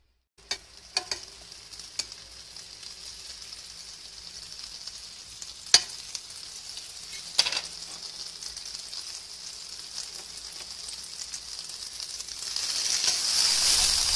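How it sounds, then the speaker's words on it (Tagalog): Thin chicken ham heating in melted butter in a pan gives a steady sizzle that slowly builds louder, with a few sharp clicks and taps of a utensil near the start, close-up and without talking. "Ipainit lang natin ng konti kasi manipis naman yung ham guys."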